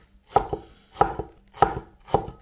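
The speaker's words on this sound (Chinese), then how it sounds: "葱切成斜刀片" A knife chops scallion into diagonal slices, and ginger, on a cutting board: four crisp, close strikes at an even pace, each with a lighter follow-up tap, and no talking.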